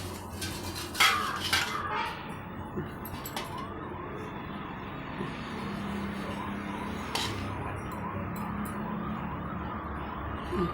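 A plate is set down in a home kitchen mid-cooking, giving a couple of sharp ceramic clatters at about one second and seven seconds over a steady background of kitchen noise, with no talking.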